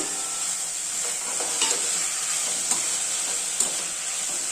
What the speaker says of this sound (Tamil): இப்போ வெங்காயம் வதங்கிடுச்சு இப்போ தக்காளி போட்டுக்கலாம்